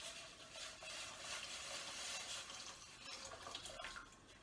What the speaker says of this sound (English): Here's my stock. I'm going to pour that